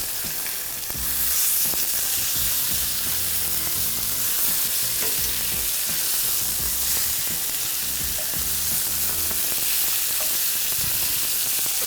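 Chicken sizzling loudly in an oiled pan, with a dense, continuous frying hiss and constant crackling pops of spitting oil, close up and steady from start to finish, no talk.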